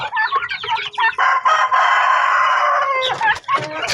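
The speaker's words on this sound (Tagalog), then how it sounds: "yung ating pabo. Ito na po sila." Several turkeys call in quick bursts, then a long, loud, strained cry holds for about two seconds before more short gobbling calls.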